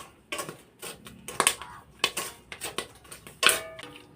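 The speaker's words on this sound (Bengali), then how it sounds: "ভুট্টাগুলো ফুটছে" Corn kernels popping in hot sand, heard as a dozen or so sharp, scattered cracks and rattles at an uneven rhythm, close and moderately loud, with no talk.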